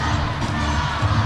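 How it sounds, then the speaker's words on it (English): Crowd cheering at a roller derby bout between Rose City and Rat City, a steady broad roar of fans rising and swelling slightly throughout, loud and continuous. "Got a cheering section up there in the crowd cheering for Bravo"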